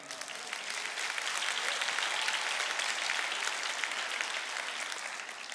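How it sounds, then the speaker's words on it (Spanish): A church congregation applauds during a candle service, steady broadband clapping from many hands filling the room and holding for several seconds at moderate volume with no one speaking over it. "Dale un aplauso al Señor."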